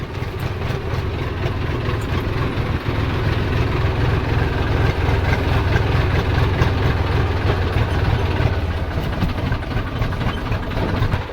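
A tractor engine idles and rumbles steadily while driving slowly through water, a constant deep drone with no talking.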